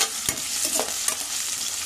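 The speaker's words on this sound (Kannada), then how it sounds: "ಇವಾಗ ಈರುಳ್ಳಿ ಹಾಕ್ಕೊಳ್ಳೋಣ, ನೆಕ್ಸ್ಟು ಚೆನ್ನಾಗಿ ಫ್ರೈ ಮಾಡ್ಕೋಬೇಕು ಅದನ್ನ" Chopped onions frying in a pan of hot oil for Kannada-style bele sambar: a steady close sizzle broken by a few stirring scrapes, with no talking.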